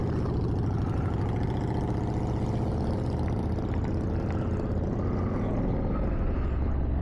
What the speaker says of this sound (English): And you can hear his exhaust now, can't you?